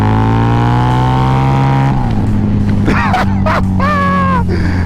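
A Harley-Davidson V-Rod motorcycle engine holds a loud, steady drone close by, then blips and revs up and down in several quick bursts, rising and falling sharply in pitch.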